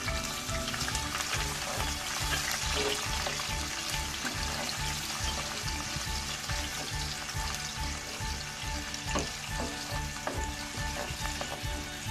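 Onion goes into a pan of garlic already frying in oil, giving a loud, continuous close sizzle with stirring scrapes and crackles throughout.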